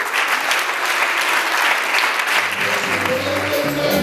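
A church congregation applauds loudly and steadily throughout, with a dense wash of clapping while music plays faintly underneath toward the end.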